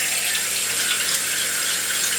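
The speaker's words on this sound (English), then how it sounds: "Water and just let it run" Tap water runs steadily into a sink over raw chicken being washed with lemon, a close, constant hiss with no pauses.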